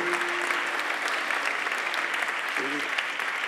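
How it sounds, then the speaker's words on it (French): Award ceremony audience claps steadily and fairly loudly throughout, with a voice briefly audible underneath the applause. "J'applaudis très très fort"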